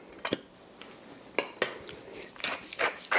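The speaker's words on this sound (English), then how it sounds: "give it another stir" Dutch kale mash being stirred in a pot with a metal utensil, a few scraping clanks at first, then quicker rubbing and knocking strokes against the pot, close and fairly quiet.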